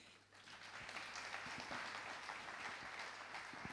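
Steady audience applause at the Corbeilles 2014 financial awards ceremony, a continuous wash of many hands clapping, heard at a fairly low level and somewhat distant.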